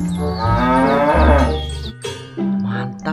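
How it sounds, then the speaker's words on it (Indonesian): A dairy cow in the video game Jurassic World Evolution 2 gives a loud, close, drawn-out moo, followed by a shorter second low call. "Wow, ada sapi perah."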